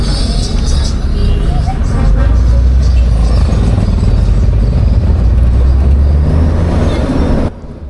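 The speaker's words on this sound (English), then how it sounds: "African towns are always noisy, busy and just a little bit chaotic" Busy street traffic in a Kenyan town, with cars, buses and trucks rumbling past, a loud, steady roadway din and occasional brake hiss that cuts off abruptly near the end.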